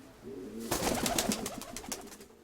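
A grey pigeon coos up close in one soft, throaty, rolling call that swells and pulses for about two seconds and then fades.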